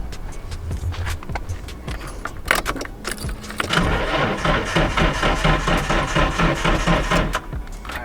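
Keys jangle before a dead drift car's engine is cranked, and the starter whirs in a long rapid, rhythmic churn that never catches, close and loud.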